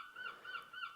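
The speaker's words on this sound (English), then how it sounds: "sorry if you can hear the seagulls in the background" Faint seagull calls repeat three times in quick succession, heard from a distance through an open window.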